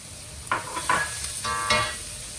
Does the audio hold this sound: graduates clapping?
no